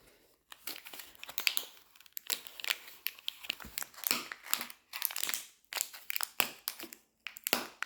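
Plastic packaging around a purple cup with a built-in straw is torn open, making a close, busy run of crinkling, crackling and tearing bursts in irregular rhythm with no talk.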